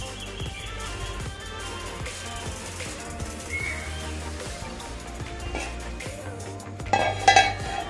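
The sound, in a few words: mixing limes with rock salt in a mud pot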